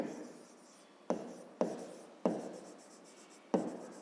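Pen writing by hand on paper in a fifth-grade maths exercise, quiet scratchy strokes with several sharp taps as the pen touches down, alone without talk.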